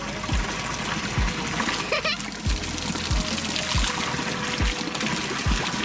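Cold spring water runs and splashes steadily at a pilgrimage site near Sankhu, Kathmandu, with repeated low thumps of water hitting as it falls. The flow is close and continuous, and a brief voice is heard partway through.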